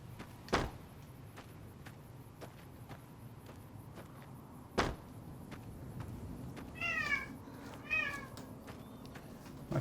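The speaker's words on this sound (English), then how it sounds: "My cat says hi." A cat wanting to come in meows twice in quick succession, faint and a little distant, after a few sharp knocks or thumps, with no talk.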